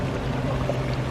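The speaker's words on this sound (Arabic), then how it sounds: "مجرى مائي صغير،" A small stream of clean, fresh water flowing outdoors near Jackson Hole, Wyoming, giving a steady, close babbling wash with no voices over it.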